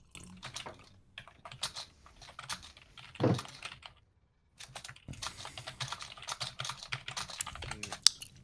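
Rapid computer keyboard typing clatters in uneven bursts of clicks, close and fairly quiet, with a brief pause in the middle and one louder knock.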